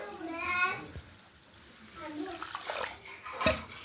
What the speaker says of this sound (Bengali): তো এখানে আমি দিয়ে দিচ্ছি জল।